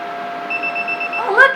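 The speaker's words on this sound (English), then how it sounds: "Oh, look, it beeps." A handheld call button in a body contouring treatment clinic emits a thin, steady electronic beep tone that ends in a brief brighter chirp, with speech nearby.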